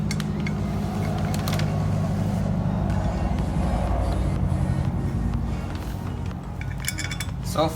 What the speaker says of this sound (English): I'm gonna see if this flywheel bolts up.